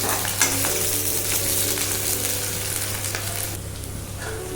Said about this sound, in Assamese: পিয়াজখিনি দি লোৱাৰ পাছত মই ভালদৰে ফ্ৰাই কৰি ল'ম